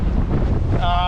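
A gust of wind buffets the microphone aboard a 16-foot trailer sailer motoring upriver, giving a loud, rough rumble, with a brief tonal hum entering near the end.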